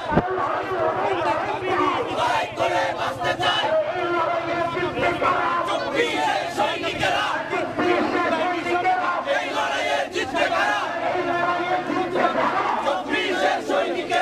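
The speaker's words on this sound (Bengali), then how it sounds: "ঢাকা বিশ্ববিদ্যালয়ে যারা শিক্ষার্থী রয়েছে, সাধারণ শিক্ষার্থী, তারা এই বিক্ষোভ মিছিলটি করছেন" Dense crowd of Dhaka University students on a protest march, shouting slogans together in a continuous loud roar of many voices with rhythmic chant bursts throughout.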